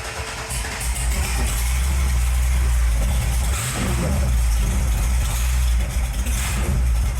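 A 1928 Model A hot rod engine idles with a deep, steady low rumble, loud and close, holding an even pace with a slight mechanical roughness throughout.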